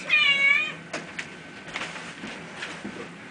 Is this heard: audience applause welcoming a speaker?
no